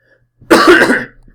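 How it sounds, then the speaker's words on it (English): A single harsh cough burst, close and fairly loud, with a brief throaty trailing sound after it. "coming down with a pretty bad cough"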